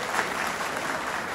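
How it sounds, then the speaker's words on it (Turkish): An audience at a political gathering in Istanbul claps in a steady, fairly faint burst of applause. "Kendilerini bir kez daha alkışlıyorum."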